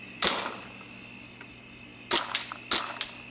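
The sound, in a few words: Tippmann A5 paintball gun firing on full auto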